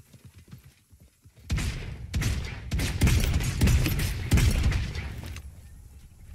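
Gunfire in the battle royale game Realm Royale, a quiet lead-in followed by a loud volley of repeated shots with sharp cracks spaced across several seconds, then fading.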